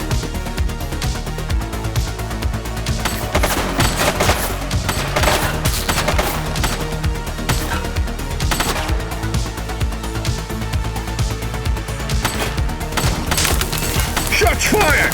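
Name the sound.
gunfire from the video game The Precinct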